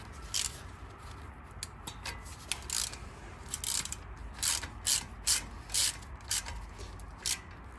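A bolt is run into the brake of a 2016 Toyota Highlander, with crisp, close metallic clicking and ratcheting bursts repeating irregularly over a low background rumble.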